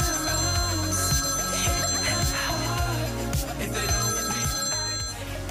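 A mobile phone rings loudly and steadily in a warbling, repeating ringtone pattern that fills the whole stretch.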